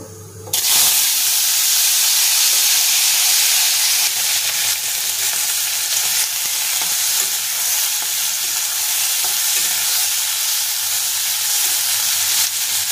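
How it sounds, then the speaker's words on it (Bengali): Vegetables lightly frying in hot oil with onion, ginger, green chilli, cumin, turmeric and salt, a loud, steady sizzle and hiss that starts abruptly and runs continuously. "তেল গরম হয়ে গেছে, সবজিটা একটু হালকা ফ্রাই করে নেব।"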